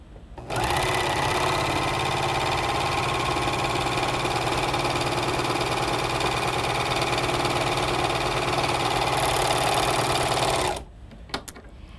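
Speedylock 299 serger stitching heavy sweater knit fabric, a fast, steady mechanical whir running loud and close for about ten seconds before stopping abruptly, with a few faint clicks afterward.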